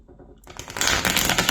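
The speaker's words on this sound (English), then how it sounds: "So we're going to go ahead and shuffle and see what comes out in the cards." A deck of tarot cards is shuffled for a reading: after a brief near-silence, a close, soft riffling rush of card edges that continues to the end.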